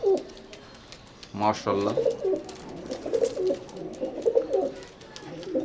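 A pair of Teddy golden pigeons coo close by in soft rolling bursts, repeating over several seconds. A voice briefly speaks over them.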